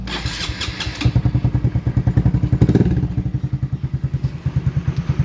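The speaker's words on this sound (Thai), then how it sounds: "ฟังเสียงเครื่องก่อนนะครับ" A Honda MSX-125 motorcycle engine runs at idle, a close, loud and steady rhythmic chugging that comes in after a brief rough start, with no voices over it.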